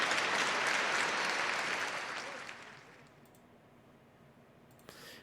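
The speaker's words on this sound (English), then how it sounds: "Give a little round of applause for Dish picking up 2 wins in the first 2 games of the series." A crowd applauds loudly at first, then the clapping fades away over a few seconds, leaving a quiet background with a faint click near the end.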